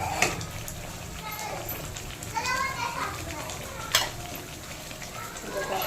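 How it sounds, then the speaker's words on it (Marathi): Bitter gourd pieces dropped into a pan of cooked masala sizzle steadily while being stirred, with children's voices and chatter in the background. "आता मी याच्यामध्ये कारलं सोडत आहे"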